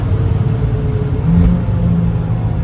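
A Fiat 500 Abarth with a Stage 1 tune accelerates, its engine a loud close rumbling drone that rises slightly in pitch as revs climb, heard from inside the car without talking.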